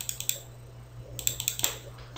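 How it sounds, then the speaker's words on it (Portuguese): Computer keyboard keys tapped in short bursts, a few quick clicks followed after a pause by another cluster of presses, including the ESC key while exiting a Windows photo viewer slideshow. "Aperta no botão ESC, ele volta né?"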